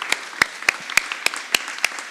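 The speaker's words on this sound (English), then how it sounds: "let's give them a round of applause" A small crowd at a school board meeting claps in a sparse, steady rhythm, sharp separate hand claps spaced about a third of a second apart with nobody talking.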